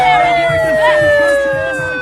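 A siren wails in the background, its steady tone slowly sliding downward while a crowd talks and murmurs over it.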